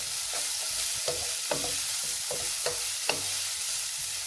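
Vegetables and peppers softening in a hot frying pan give off a steady close sizzle, broken every half second or so by the scrape and clack of a utensil stirring them.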